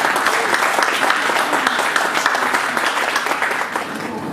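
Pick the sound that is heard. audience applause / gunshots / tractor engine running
audience applause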